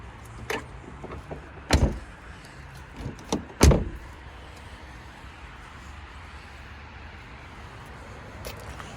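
A used car's door opened and shut in a quiet outdoor setting, giving two solid thumps a couple of seconds apart with faint handling noises around them.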